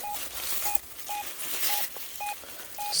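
Target tones from a Minelab Deus II metal detector while relic hunting, a short mid-pitched beep sounding about six times in an irregular rhythm over faint outdoor background noise.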